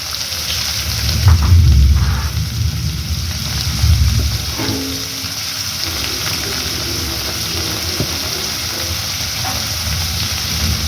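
Green chillies, onion and garlic fry in a pan for a prawn puttu dish with a steady crackling sizzle. Deeper stirring thumps swell early on, then the frying settles into an even hiss.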